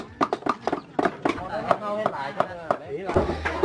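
Meat being chopped for grilled minced meat seasoned with onion, chili and salt, a run of sharp, fairly close knife-on-board whacks in quick irregular rhythm, with a person talking over the chopping.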